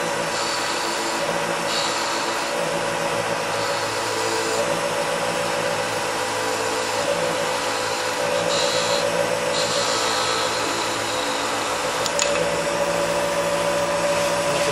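A skew chisel cuts a V groove in a small wooden holiday ornament spinning on a wood lathe, a continuous loud motor drone with a rasping, scraping cut that rises and falls in brief bursts.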